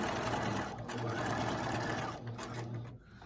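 A sewing machine stitches the pieces of a gathered skirt in a fast, steady mechanical whir, pausing briefly and restarting, heard close and alone before trailing off at the end.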